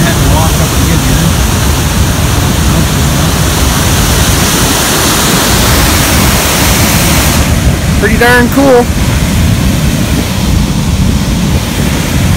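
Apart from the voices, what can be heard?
waterfall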